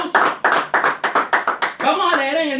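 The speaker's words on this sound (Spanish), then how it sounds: "Bríndale un aplauso al Señor Jesucristo." Church congregation clapping in a steady rhythmic beat, about a dozen sharp claps over a couple of seconds, then giving way to a voice speaking and singing.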